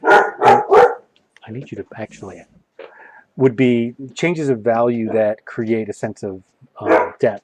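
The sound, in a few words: dogs barking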